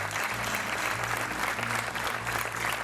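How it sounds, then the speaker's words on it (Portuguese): Studio audience on the Portuguese game show Joker applauds contestant Miguel, a thick, even wash of clapping from many hands held at a steady level throughout, with a low musical tone underneath. "Então um aplauso para o Miguel."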